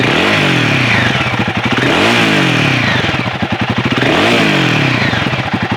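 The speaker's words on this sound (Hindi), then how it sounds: "अब बाइक अगर स्टार्ट हो ही गई है तो भाई पीछे की तरफ आपको ले चलते हैं और एक बार इसका एग्जॉस्ट नोट आपको सुना देते हैं।" Close, loud exhaust of a Royal Enfield Guerrilla 450 motorcycle, its engine revved in repeated swells of about three cycles over a rough, throbbing idle.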